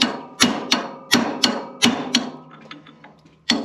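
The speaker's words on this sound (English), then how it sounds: "So I have to get this off first anyways. Yeah, hammer and chisel." Sharp metallic hammer strikes on a chisel drive against a bearing seal on a Massey 35 tractor, about nine loud close blows in an uneven rhythm, with a short pause and light rattling before a final hit.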